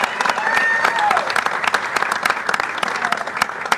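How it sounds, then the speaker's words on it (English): A crowd in Sacramento claps for David Taylor, sharp, close hand claps blending into full, lively applause that keeps going for the whole few seconds. "Let's give David Taylor a round of applause."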